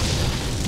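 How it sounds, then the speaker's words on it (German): The explosion shot skill in the video game Torchlight sounds as a short, dense boom, loud and full-range, that fills the whole brief moment. "Ich liebe diesen Explosionsschuss."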